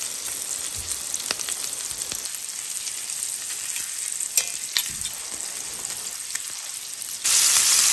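Food fries steadily in a pan, a close crackling sizzle with scattered pops and spits, rising to a louder, brighter hiss in the last moment, with no talking.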